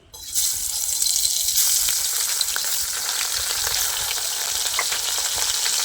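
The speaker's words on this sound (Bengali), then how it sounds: "আমি এক এক করে মাছগুলো ছেড়ে দেবো।" Koi fish pieces are dropped one by one into hot oil in a kadai and erupt into a loud, steady hiss and sizzle that fills the clip, close up, with no speech.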